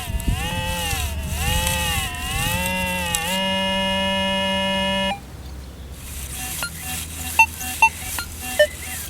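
Garrett pinpointer probe sounding with a steady electronic tone that wavers and holds, then short faint beeps near the end, heard outdoors while metal detecting.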